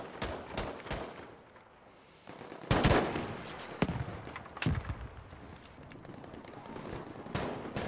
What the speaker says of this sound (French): Ok, il y a un mitrailleur là.